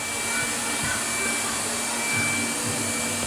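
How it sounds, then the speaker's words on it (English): A V-827 robotic vacuum cleaner running indoors, a steady whooshing motor drone at moderate level with slight swells as it moves. "Yeah, robot hoover. Robot hoover? Vacuum cleaner we call this, yeah?"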